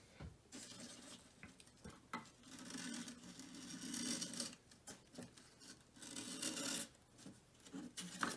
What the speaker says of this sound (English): Now I will use my X-Acto blade and I will trim off the wing and do the same thing around the perimeter